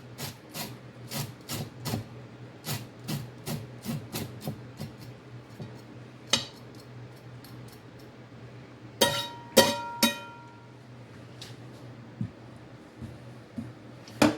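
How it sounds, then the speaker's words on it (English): Fresh corn cob scraped with a blade to draw out the corn milk, a series of short, sharp rasping strokes in an uneven rhythm, close and distinct, with a few louder clattering scrapes midway. "scrape the corn cob to get that milk out of there"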